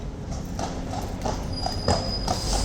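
Hooves of horses clip-clop in a steady, close rhythm on a bright morning, loud and continuous with no talk over them.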